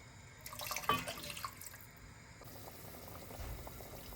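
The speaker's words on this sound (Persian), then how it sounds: "آب ما جوش اومد." Water heats in a pot on the stove while rice kofta sauce is prepared, a soft bubbling and hiss swelling early and settling into a quieter steady simmer.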